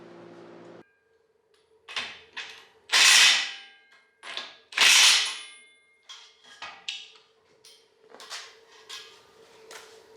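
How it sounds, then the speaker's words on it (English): Series of sharp metallic hammer taps driving a seal into a flange on a Ford 8.8 axle, some louder and ringing, irregularly spaced against a faint steady hum. "you can clip your seal right on it and hammer it in"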